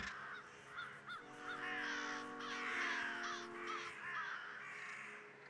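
Crow-like bird in the Doggone video game giving a rapid series of harsh caws, several overlapping calls in quick succession, fairly close and clear over a quiet background.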